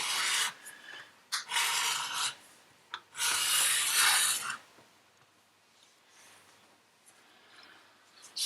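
Rotary cutter slicing through quilting fabric seams on a cutting board, heard as several loud rasping strokes in quick bursts followed by quieter handling and faint rustling.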